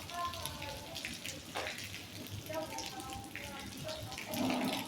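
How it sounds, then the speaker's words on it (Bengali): An artificial rain effect at the Abu Dhabi National Aquarium patters and splashes as a soft, continuous wash of falling water beneath nearby voices. "এটা হলো বৃষ্টি এটা হলো ডিজিটাল বৃষ্টি"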